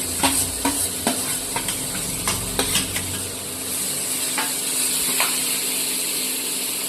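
Steamed potatoes tossed into a frying pan with green chilies, bringing a steady hiss of sizzling oil and a few sharp scrapes and taps of stirring, close and continuous.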